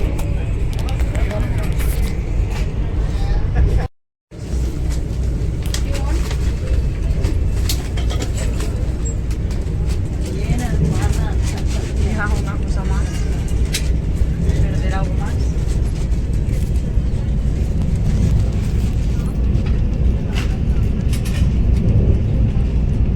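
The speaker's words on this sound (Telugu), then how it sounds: "ఇప్పుడు మేము వందే భారత్ ట్రైన్లో ఉన్నాము." Steady, loud low rumble and rushing noise inside a Vande Bharat Express running at about 117–127 km/h between Delhi and Agra, continuous apart from a brief dropout, with people talking over it.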